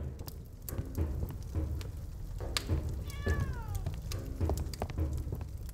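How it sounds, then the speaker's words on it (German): Cat meowing in a video game about running a tavern, a short rising-falling meow heard clearly over a steady background of pattering game ambience resembling light rain and clicks. "So, Katze."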